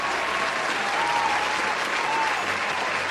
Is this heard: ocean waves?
no